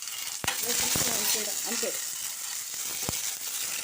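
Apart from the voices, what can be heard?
tempering spices frying and sizzling in a pan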